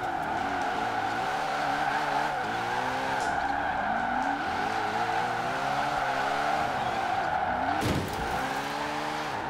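Ford Mustang Hoonigan drifting in Forza Horizon 4, a steady high engine drone with rising and falling revs and continuous tire squeal, a sharp skid burst near the end.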